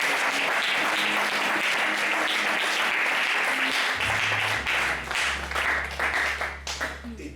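A church congregation bursts into sustained applause that fills the room, then thins out toward the end while a low hum sets in.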